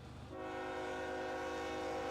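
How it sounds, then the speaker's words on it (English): Ballast train passing with a sustained loud horn blast that starts just after the beginning and holds steady, over the low rumble of the locomotive and wagons. "this has got to be a ballast train"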